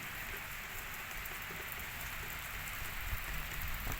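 Steady rain falls and patters on surfaces nearby, a continuous soft hiss with no voices and no pauses.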